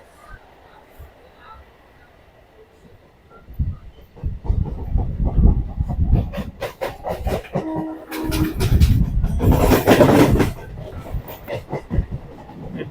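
Dankuni local train on the rails: quiet at first, then a rising rumble with rhythmic clattering and squealing bursts as carriages pass over joints and junctions, with voices faintly audible.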